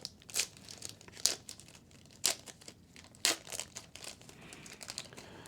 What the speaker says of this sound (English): let's dive right in and open up the first pack of 1990 NBA Hoops cards